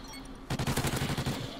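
Rapid burst of automatic gunfire in the Call of Duty Ghosts video game, about a dozen sharp shots in quick rhythm after a short lull, fairly close.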